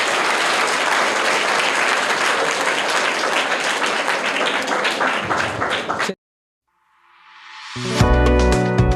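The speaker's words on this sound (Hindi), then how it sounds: "इनकी इस महानता के लिए जोरदार तालियां हो जाए एक बार" A school audience gives loud, steady applause for about six seconds, then it cuts to silence, followed by a burst of tonal music.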